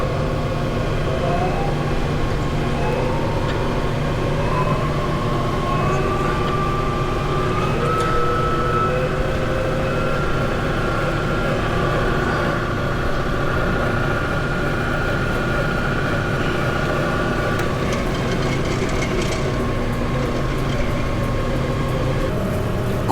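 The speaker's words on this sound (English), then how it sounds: "It is powered by a 3 horsepower US Motors drive, variable speed." A Black Bros 22-D 68-inch top and bottom glue spreader running on a 3 horsepower US Motors variable-speed drive, a steady, loud mechanical hum and whine with faint tonal shifts, continuous throughout.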